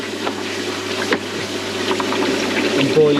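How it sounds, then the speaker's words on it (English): Fresh water runs steadily into a koi pond pot during a spring clean, a continuous close splashing trickle with a low pump-like hum underneath and a brief burble near the end. "I've got fresh water going in there"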